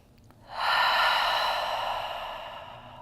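A single long, deep breath during a hatha yoga pose, a close, airy whoosh that swells quickly and slowly fades over a couple of seconds.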